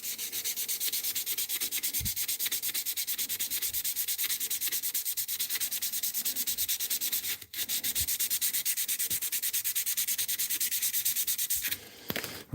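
Wet and dry sanding with 1000 grit sandpaper makes a steady, close hiss of rapid back-and-forth strokes that runs almost unbroken, with only a couple of brief pauses and no talking.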